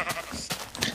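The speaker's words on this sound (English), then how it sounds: "I hear our sheep farm. We must be close." Sheep on a farm in Minecraft bleat in a few short, wavering calls packed into one second, fairly close and alone.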